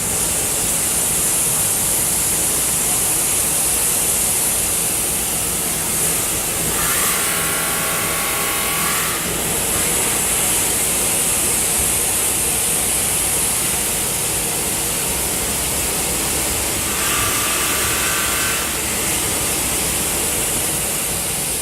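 A CNC machine running a Leatherhead Mini surfacing tool across its table at about 2,500 RPM and 600 inches per minute gives a steady, loud hiss and whir that holds throughout. The pitch rises briefly twice as the cut changes.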